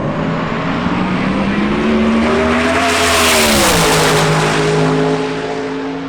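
An A-Class drag racing car at Hot Rod Drag Week 2024 accelerates hard down the strip, its loud engine note climbing in pitch through a single sustained pull before easing off.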